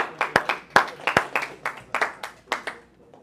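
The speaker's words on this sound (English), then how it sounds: "Give him a nice round of applause." A classroom gives a brief round of applause: a handful of sharp, separate hand claps rather than a dense roar, fading out within a few seconds.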